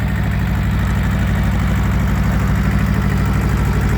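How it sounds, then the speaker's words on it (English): A Hino Moto tractor, roughly 14 to 16 horsepower and hitched to a single-furrow plough at a plough day, idles steadily with a close, loud, even low throb and no talk over it. "And here we've got a Hino Moto, probably 15-16 horsepower,"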